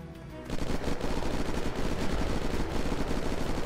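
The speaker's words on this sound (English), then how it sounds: "This shotgun is useless." Gunfire from a shotgun in the Unturned video game during a zombie horde fight, a dense run of loud, rapid blasts that starts after a short quiet moment and continues without a break.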